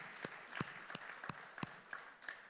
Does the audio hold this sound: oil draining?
no